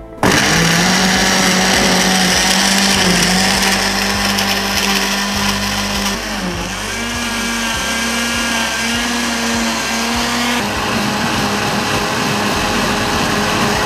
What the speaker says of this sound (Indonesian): kita mulai blender